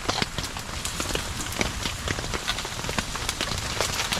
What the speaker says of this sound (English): the occasional shower is now turning into rain